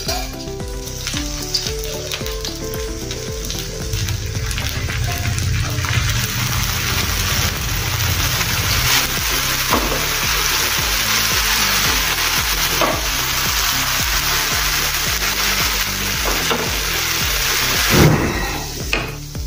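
Wheat flour dosa crisping on a hot pan as oil is poured over it gives a steady, close, fairly loud sizzle and hiss that runs unbroken for the whole stretch, with no talking.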